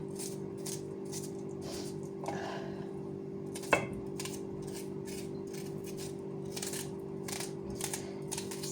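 A knife taps out quick, regular chops through onions on a cutting board, close by, over a steady low hum, with one sharper knock midway.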